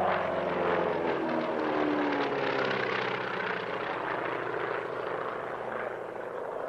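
A vintage former Royal Canadian Air Force military aircraft, later converted to a freighter, drones at the Wings Over the Illawarra airshow with a steady loud engine roar that holds level and eases slightly toward the end.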